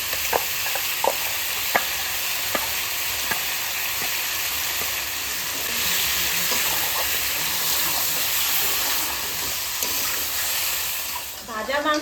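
A ground masala paste of onion, ginger, garlic, cumin and green and dry chilli frying in a pan makes a steady, close hiss and sizzle with occasional spatula taps, continuous throughout and rising slightly midway.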